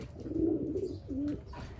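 Pigeons coo nearby, two low throaty coos in quick succession, clear and close with little else around them.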